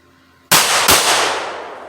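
A handgun fires at a shooting range: one sharp, loud crack with a second blast right behind it, each ringing out and decaying over about a second.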